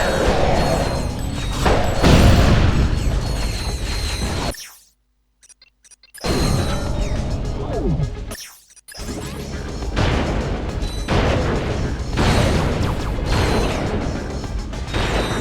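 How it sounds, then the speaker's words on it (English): Loud crashing blasts and booms from explosions in Ratchet: Deadlocked pile up over a busy, cluttered soundscape, broken by two brief silences. "I think explosions are pretty."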